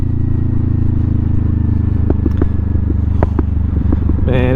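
A 2025 Kawasaki Ninja 500 motorcycle rumbles low and close, then its exhaust gives a handful of sharp, irregular pops and crackles over the engine drone.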